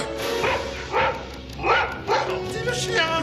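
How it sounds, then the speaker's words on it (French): A dog barks several times in short, spaced bursts close by, amid a steady background hum, with a voice speaking near it. "Gentil le chien, couché!"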